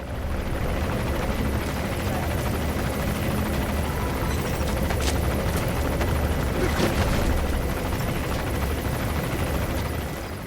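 A helicopter's rotor in Metal Gear Solid V thrums continuously and loudly throughout, a dense steady roar with no pauses.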